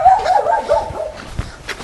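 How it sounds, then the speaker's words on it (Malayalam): Dogs barking and yipping in a village in Wayanad where a tiger was captured, with short barks and whimpers that sound fairly close, over background murmur and the bleat of goats. "പട്ടികളുടെയൊക്കെ ഒരു കുരയ്ക്ക് പോലും വ്യത്യാസം ഉണ്ടല്ലേ?"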